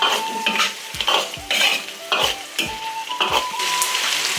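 Pork ribs stir-fried in a wok with ginger, scallion, garlic, bay leaves and cinnamon for Sichuan braised ribs; repeated sharp metal spatula scrapes and clanks land roughly every half second over a steady close sizzle.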